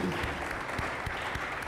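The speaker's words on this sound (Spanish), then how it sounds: "Un aplauso, por favor, para el doctor" Audience applause after a lecture on democracy and social networks, a steady burst of clapping from a seated crowd, fairly close and continuous.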